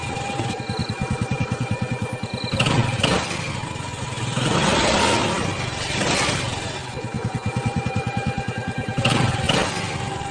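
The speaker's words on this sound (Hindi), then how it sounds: "बाइक चलाता हुआ जंगल के रास्ते अपने घर जाने लगता है" A motorbike rides along a forest road, its engine a close, loud, pulsing putter that swells into repeated revving surges and eases back, with no talking.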